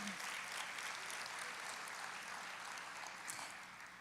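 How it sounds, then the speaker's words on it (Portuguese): A congregation applauds during a church sermon, a steady wash of clapping held at an even level for the whole stretch and easing off slightly near the end. "aplauda ao Senhor"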